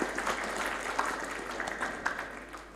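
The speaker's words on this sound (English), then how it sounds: "Please give applause to both of them." Applause from attendees at an international school conference session on sustainable development, a soft, moderate patter of clapping in a hall that gradually fades toward the end.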